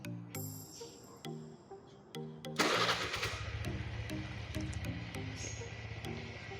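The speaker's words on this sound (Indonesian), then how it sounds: "Setelah itu kita menghidupkan mesin." A vehicle engine, likely a motorbike, being started: electronic beeping tones, then a brief starter crank that catches into a steady idling hum, close and clear with no talk.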